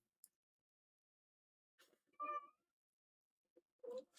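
A cat gives a clear meow in a quiet room, followed a moment later by a shorter second meow, with small soft rustles between, close and fairly faint.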